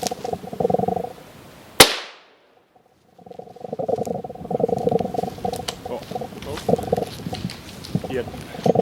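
A single sharp rifle shot rings out during a sika deer hunt in rut season, loud and close with a fading echo, followed by a brief silence and then voices talking outdoors.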